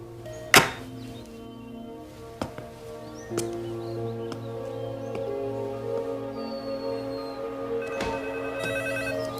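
A telephone rings in a quiet room, its bell sounding in several repeated bursts with a few thumps and soft rustles between the rings.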